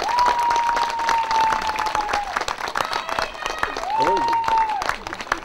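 Outdoor applause from a sing-along crowd at Picassoudden greets a performer taking the stage, dense and continuous clapping throughout, with a sustained tone and brief voices mixed in.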